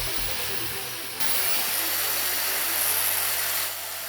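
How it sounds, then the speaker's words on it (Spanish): A 220-volt, 800-watt angle grinder runs steadily on power from a generator, giving a continuous high-pitched whine with a broadband hiss that steps up in intensity partway through, then eases slightly near the end. "Vamos a conectar también una amoladora angular que funciona a 220 voltios"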